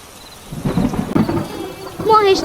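A loud rumble of thunder rolls over steady rainfall in a Bengali cartoon storm scene, ending in a brighter, rising sound effect.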